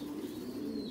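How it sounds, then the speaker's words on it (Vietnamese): An American Giant Runt pigeon coos in a low, steady, throaty murmur, close and continuous over faint background noise with no talking. "Con chim bồ câu gà Mỹ rất dữ này."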